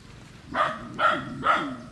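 A mother dog guarding her puppies gives three sharp, evenly spaced barks about half a second apart, close by and fairly loud over a quiet background.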